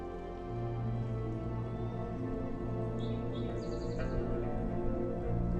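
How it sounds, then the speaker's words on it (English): Birds sing and chirp in a forest near Goldwater Lake in Prescott, Arizona on a morning hike, with bright calls scattered over a steady, continuous background of tonal drone. "There are just so many birds singing, and the sound of the woodpeckers."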